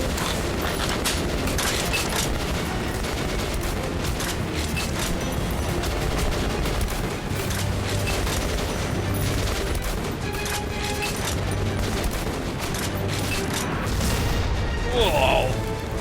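Constant rumble of Metro Last Light combat with repeated heavy cannon blasts at tanks and gunfire, dense and loud throughout, with a voice talking over it.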